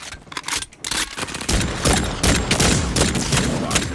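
Rapid gunfire in the Carnival Shoot Out video game stage, dense overlapping shots fired at moving targets, loud and continuous throughout.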